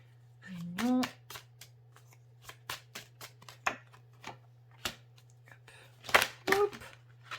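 Tarot cards shuffled and riffled by hand, a run of quick papery flicks and slaps in irregular bursts, with brief speech at the start and near the end over a steady low hum.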